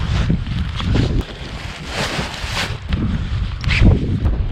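Strong wind buffets a paragliding launch site in gusty, roaring surges, with rustling fabric flapping close to the microphone throughout.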